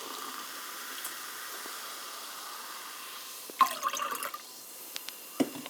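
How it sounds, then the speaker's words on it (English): A brief splash and fizzy trickle of Raspberry Bubly sparkling water pouring into a cup, following a stretch of quiet background hiss, with a couple of small clinks afterward. "Raspberry Bubly and you pour it into this cup."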